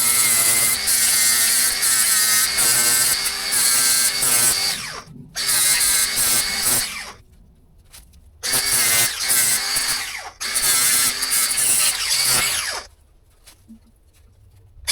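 Grinding wheel sharpening the teeth of a wood mulcher, a loud high-pitched whining grind in long bursts separated by brief pauses as the wheel is pulled away and reapplied.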